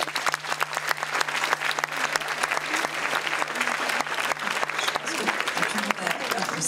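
A film-screening audience applauds steadily with dense, sustained clapping throughout, some voices mixed in under the clapping.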